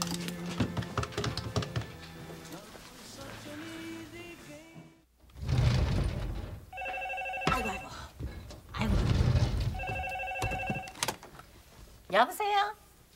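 A telephone rings in two short repeated bursts in a 1994 Korean TV drama scene, with voices talking and rustling movement around it.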